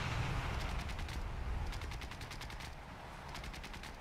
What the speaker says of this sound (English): It's pretty much just a whole horde of AI gunners shooting at each other